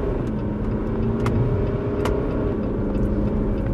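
A 2019 Jeep Compass Longitude Diesel drives along the road, heard from inside as a loud, constant engine drone and road rumble, with a few faint ticks and knocks.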